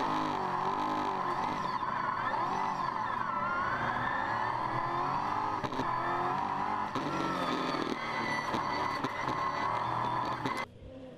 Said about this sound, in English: Here's Keith Kazuki now in his second car for the weekend, the 2014 Mark Focus V8.